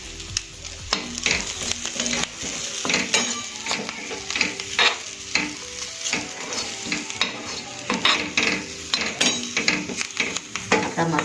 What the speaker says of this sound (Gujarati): આપણા મસાલા એકદમ ડ્રાય રોસ્ટ થઈ ગયા છે